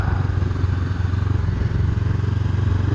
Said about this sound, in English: Let's ride this bike.